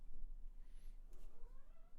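A house cat gives a soft, faint meow, with a low hum in the background.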